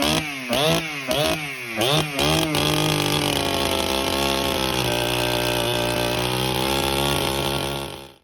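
Chainsaw fitted with a 28-inch bar, blipped a few times in quick revs, then held at a steady, loud, close high-pitched whine for several seconds before cutting off.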